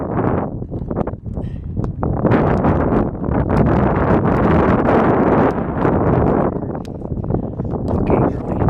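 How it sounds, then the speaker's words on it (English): Gusty wind buffets an outdoor microphone in a steady, loud broadband roar that swells and dips throughout, with no speech. "It's a little windy here."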